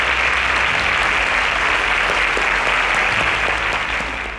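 A studio audience claps for quiz show contestants who answered correctly. The applause is loud, dense and continuous, carries a low hum beneath it, and fades a little at the close.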